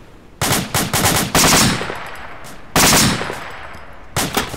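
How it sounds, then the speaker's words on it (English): Machine gun fire in the video game Arma 2: loud, close bursts of rapid automatic shots, several separate volleys with brief pauses between them, and no talking. "I can't hear you over the gun."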